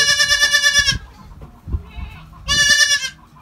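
Young goat kids on a farm bleat loudly and close, two long wavering calls separated by a short gap with a faint cry between.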